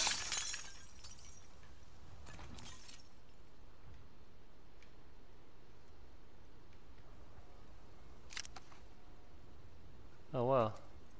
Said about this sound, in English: Trouble is breaking glass all the time makes so much noise.